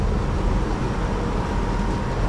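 An old car with no overdrive drones steadily at high revs, a loud, constant low engine rumble and road noise heard from inside the vehicle, with no talking.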